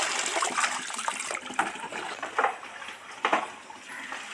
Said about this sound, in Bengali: ভালো করে যে ধুয়ে নিলাম